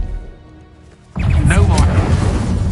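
A Confringo blasting spell explodes in a Harry Potter video game, a sudden loud broadband burst after a quiet lead-in that rumbles on with crackling debris, with game character voices shouting over it.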